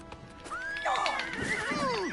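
Horse in Oblivion Remastered on PS5 lets out a loud, drawn-out whinny with rising and falling pitch, close by, with a few faint hoof clops beneath.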